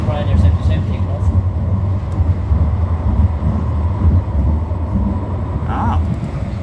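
An Edinburgh tram runs between Edinburgh Airport and Newhaven with a loud steady low rumble and hum from inside the car, while passengers talk over it throughout.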